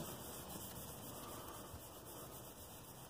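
A towel wipes high friction wood-turning polish onto a piece, giving a steady, faint soft rubbing hiss close by with no pauses.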